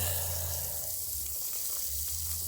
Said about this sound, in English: So now I'm just watering them.